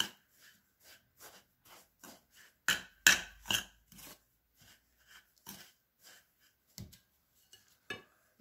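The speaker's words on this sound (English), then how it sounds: "Mix our tuna." Spoon scraping and clinking against a bowl while tuna is mixed, a series of short, quiet taps and scrapes in an irregular rhythm, close by with no talking.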